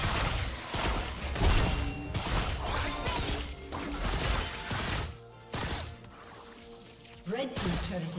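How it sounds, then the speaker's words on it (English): A turret destroyed in League of Legends, heard as a run of heavy crashing and thudding impacts with swooshes over layered game music and effects, loud and busy throughout with a brief dip near the end. "Red team's turret has been destroyed."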